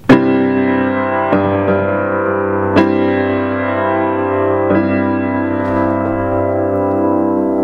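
A processed electric guitar strums an inverted chord that rings out, then is re-struck several times, sustained with effects and reverb, played alone.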